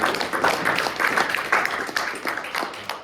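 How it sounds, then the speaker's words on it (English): An audience applauds a speaker at a prompting lab session, a dense, continuous patter of many hands clapping, fairly loud and steady throughout with no talk over it. "let's give a round of applause to Rohan"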